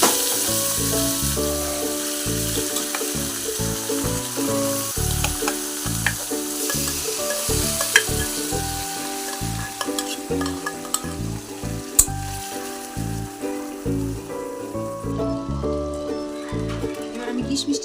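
Boiled carrots being stirred in a hot pan for Bengali carrot halwa, with a steady sizzle and repeated scraping strokes running throughout, fairly close and loud, with no talk over it.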